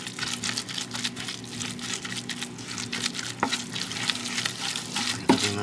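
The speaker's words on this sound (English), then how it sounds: "Mix it well." Beef ravioli filling bound with egg is stirred by hand, producing a continuous close, wet squelching and scraping texture at moderate loudness with a couple of sharper knocks, and no one speaking.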